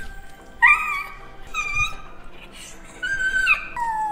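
A dog whimpers and whines nearby in a few high, wavering cries with short pauses between them. The clip is fairly quiet and no one speaks.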